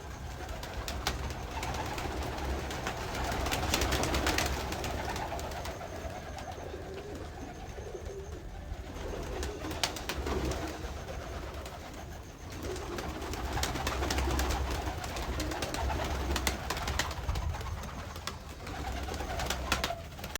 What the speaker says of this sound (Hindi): लास्ट डे जो हम कबूतर छोड़ गए थे बाहर ही, एक तो ये बैठा, बाकी दो पता नहीं कहाँ है।